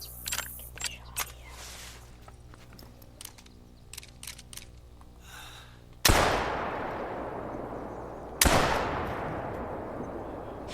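Two sharp, loud shotgun blasts ring out during an outdoor turkey hunt, the second a couple of seconds after the first, each with a trailing echo after quiet clicks and rustling.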